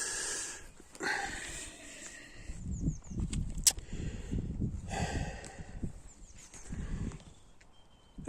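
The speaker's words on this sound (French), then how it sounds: "Bon, mes chevaux vont bien." Horses move about in a field, giving quiet snorts, wheezy breaths and soft hoof shuffles at close to medium distance, with short gaps between them.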